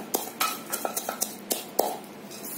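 Potting soil mixed with tea leaves and eggshells is stirred in a pot, a run of crisp scraping clinks and gritty scuffs spaced about a third of a second apart, close and fairly clear.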